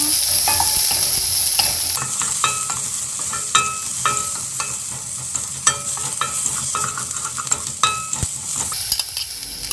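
Sliced carrots stir-frying in a hot pan with a steady close sizzle, broken by repeated sharp clicks and scrapes of a utensil stirring against the pan.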